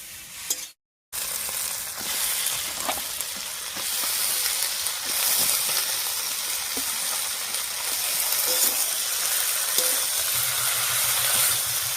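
Chopped cabbage hits a pan of cooked-down, mushy tomato and sizzles steadily, a continuous bright frying hiss with occasional stirring knocks after a brief silence at the start.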